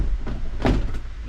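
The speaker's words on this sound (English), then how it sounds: "Now the next step is we're gonna lift the whole door panel up." A plastic truck door panel is pried up and pops loose with a short, muffled crack over low background noise.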